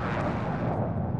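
An airstrike explosion in Call of Duty Warzone rolls out as a sustained, loud, broad rumbling blast with no talk over it.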